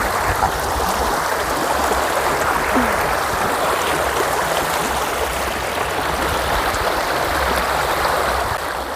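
A steady stream flows at a campground in Saraburi, Thailand, its broad, continuous rush of clear water filling the scene at close range with no talk.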